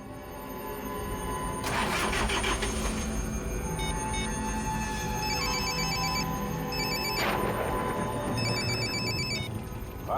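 An unanswered phone in a Hindi TV drama rings with a repeating electronic chirp in short bursts over a steady rumbling background with occasional whooshes. No one speaks.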